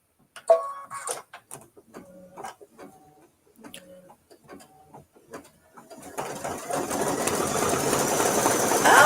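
An embroidery machine stitches a Kimberbell mini-quilt design in short, rhythmic bursts of rapid mechanical ticking separated by pauses. Toward the end a broader, steadier whir builds and grows louder.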